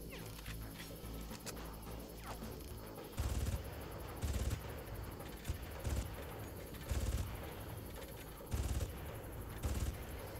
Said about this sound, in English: This man's shooting mortars at me